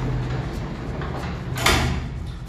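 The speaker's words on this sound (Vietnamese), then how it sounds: "ở đây thì chúng ta có một bộ cửa lùa" An aluminium and glass sliding door glides along its track with a low rolling rumble under steady background noise, ending in a brief brighter swish.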